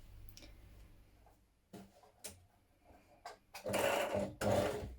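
A sewing machine edge stitches a pocket onto a onesie (McCall's 7518), first a faint ticking, then two louder whirring bursts near the end, close by and without talk.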